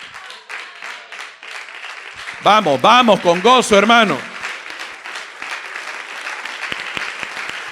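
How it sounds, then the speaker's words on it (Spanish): A church congregation stands and applauds the Lord in sustained, loud clapping. Someone shouts over the applause midway through, and it continues after he stops. "Vamos a darle una ovación de pie, vamos a estar de pie."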